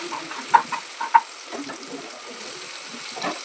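Julienned ginger and vegetables frying in oil in a wok, a soft steady sizzle with a couple of sharp pops near the start, close by and without talk.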